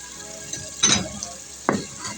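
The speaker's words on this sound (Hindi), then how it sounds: "प्याज को फ्राई कर लिया" Onion and tomato masala frying in a pan, a low steady sizzle broken by two brief louder bursts of stirring or scraping, no voices.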